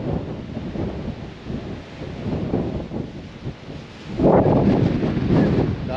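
Strong wind sweeping across Horsley Hills batters the microphone with rough, roaring gusts that swell into a louder blast toward the end.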